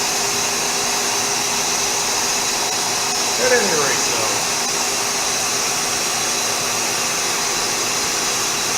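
Vacuum pumps hum loudly and steadily beside a particle beam line with a small bending magnet, a broad constant drone with a faint tonal whine. Someone speaks briefly over the noise.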